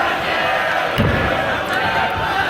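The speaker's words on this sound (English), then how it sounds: "And the crowd chant, Dave's gonna kill you" Wrestling crowd at a six-man tag match chanting together, a steady loud wall of massed voices with a heavier thud near the middle, no single voice standing out.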